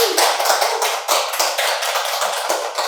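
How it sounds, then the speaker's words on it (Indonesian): Hands clap in a rapid, steady round of applause, loud and close, with sharp repeated claps running the whole way through. "Tepuk tangan dong nih"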